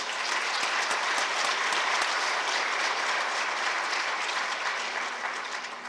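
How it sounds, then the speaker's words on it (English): Steady applause from a large audience at a corporate charity announcement event, loud and sustained for the whole stretch, dense clapping that fades slightly near the end. "Let's give them a round of applause."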